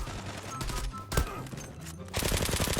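Rapid automatic gunfire bursts in the online shooter game Zula, loud and close, with a short pause and then a fresh dense volley near the end.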